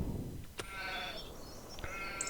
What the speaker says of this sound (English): So here we go, our new sheep.